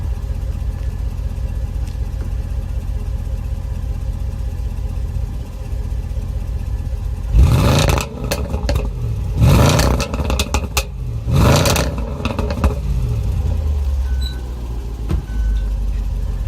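A sports car engine, cold, idles low and steady, then revs sharply three times in quick bursts below 4,000 rpm, each roar rising and falling before settling back to a rumbling idle.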